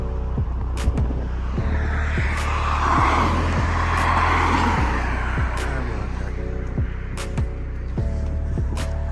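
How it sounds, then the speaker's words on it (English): A large lorry followed by a queue of fast-moving vehicles passes along a main road on a rural walk, a loud, steady close rumble of engines and tyre roar throughout, with repeated sharp transient knocks. "Great lorry came, followed by fast moving vehicles waiting behind it."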